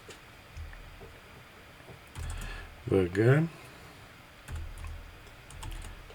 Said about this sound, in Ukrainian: Тож ми тепер вводимо команду.